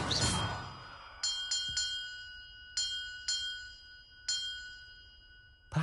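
Bells ring in the video game Hogwarts Legacy: about eight clear, bright metallic dings, each sustaining and fading, spaced irregularly after a soft opening whoosh.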